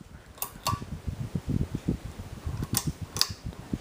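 A Hampton Bay Redington IV ceiling fan runs at low speed with a soft mechanical whir and faint irregular ticking. A few sharper clicks come through, and no one talks.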